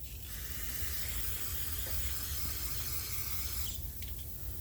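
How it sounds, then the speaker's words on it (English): Aerosol carburetor cleaner sprays with a steady hiss for about four seconds while cleaning a Yard Machine push mower carburetor, close and fairly loud, then cuts off. "I got a little dirty from my gloves, so I'm going to spray that off."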